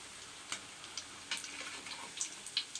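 Cassava vada bubbling in hot frying oil gives a soft, steady sizzle, with a few faint clicks and taps as the fritters are turned over, and no voices.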